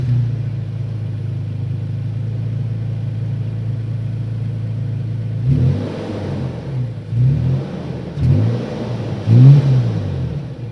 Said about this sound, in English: This one does have a TRD exhaust that sounds pretty good.